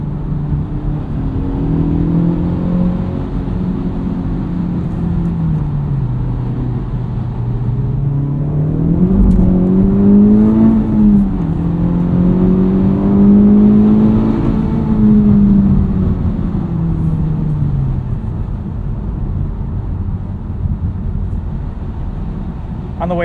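2023 Honda Civic Type R, front-wheel drive, accelerating hard on an open road, engine note rising and falling through gear changes as heard from the cabin, loud and continuous.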